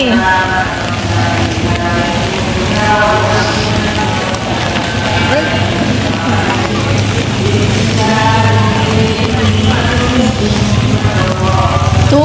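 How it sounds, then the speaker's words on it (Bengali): Heavy rain pours on a rainy afternoon, a dense, loud, constant hiss and patter of drops on surfaces that carries on without pause throughout. "বিকালবেলা অনেক বৃষ্টি হচ্ছে চারপাশে প্রচুর বৃষ্টি"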